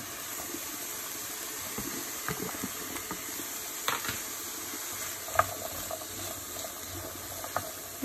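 Zucchini sizzles steadily in a pan of hot bacon fat, a soft continuous hiss with occasional light scrapes and clicks of stirring.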